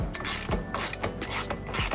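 A ratchet wrench working the axle off a crash-damaged 2023 Aprilia RS660 sport motorcycle: close, rapid ratcheting clicks in several short bursts separated by brief pauses.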